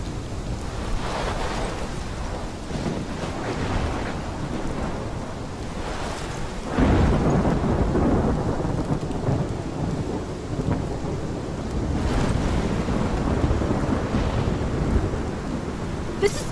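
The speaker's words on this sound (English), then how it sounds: "This is my storm!" A heavy thunderstorm in Life is Strange, with steady rain hissing throughout and deep rolling thunder swelling loudly around the middle and again near the end, no voices present.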